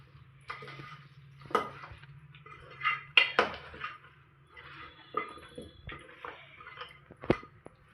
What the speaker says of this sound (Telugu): ఇలా మంచిగా కలుపుకోవాలి ముక్కకి మొత్తం మసాలా పట్టేలాగా